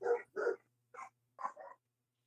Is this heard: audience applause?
no